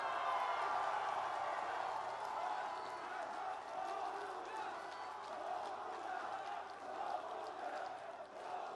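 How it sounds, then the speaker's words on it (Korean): Large crowd cheering and applauding at Roh Moo-hyun's homecoming event in Bongha village, a dense, sustained roar of shouts and clapping from a big outdoor audience throughout. "여러분, 다시 한번 뜨거운 함성과 박수 부탁드리겠습니다."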